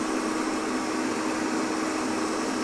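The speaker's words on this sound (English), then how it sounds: "one thing about listening to your blender is if it sounds like it's working really hard, then it probably is" A kitchen blender runs steadily, a dense, even motor whir with a broad hiss that holds at constant loudness throughout, close by and alone with no voices.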